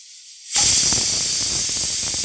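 A pressure cooker cooking dal lets off a sudden loud, steady hiss of escaping steam that begins abruptly after a brief silence and continues unbroken, close by.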